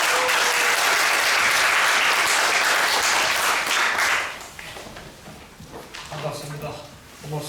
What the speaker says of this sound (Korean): 여러분 뜨거운 박수로